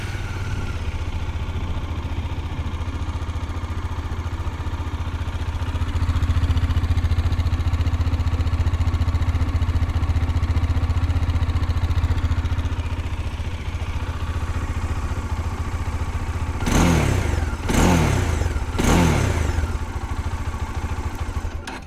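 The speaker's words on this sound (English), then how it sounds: "The Dominar has a nice warbly, throaty kind of exhaust. Let's see if we can turn it on and give you a taste." Bajaj Dominar 400 motorcycle with a warbly, throaty exhaust idling steadily nearby, then three sharp revs blipping the throttle in quick succession near the end.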